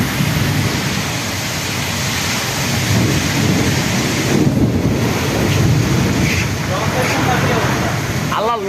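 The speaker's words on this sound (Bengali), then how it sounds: "আল্লাহ, এটা কি তুফান!" Loud, steady roar of storm wind and churning waves buffeting a launch boat in Bhola district during a sudden Kalbaishakhi cyclone, rain and wind rumble throughout, with frightened voices calling out over the din.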